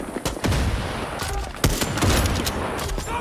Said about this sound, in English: Let's try a sniper rifle on this guy,